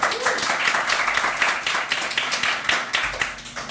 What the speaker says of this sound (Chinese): 借我一个掌声给我们的家真好吗